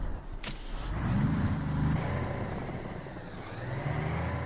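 A truck engine starts up in the video game Alaskan Road Truckers, a deep steady rumble joined by a short hiss of air near the start and holding at a fairly even level throughout.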